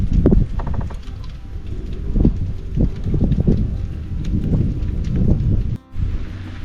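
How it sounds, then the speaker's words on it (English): Wind and rain at Flaming Gorge produce a loud, rough blustery rush over the microphone, with gusty bursts and patter that continue steadily before a brief sudden drop near the end, no talking. "It's windy and rainy"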